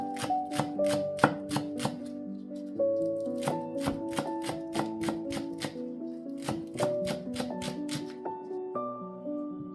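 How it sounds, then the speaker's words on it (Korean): A knife chops green onions into thin rounds on a cutting board for a noodle garnish: quick, crisp repeated strikes in bursts with brief pauses, close and clear over soft background music. "먼저 고명으로 올릴 쪽파를 송송 썰어주세요."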